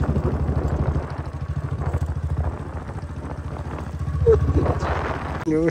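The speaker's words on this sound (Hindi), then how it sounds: "इधर तो बुलट बड़बड़ करती चल रही है" A Royal Enfield Bullet motorcycle's engine thumps with a steady, low, rhythmic beat nearby, running continuously with faint background noise.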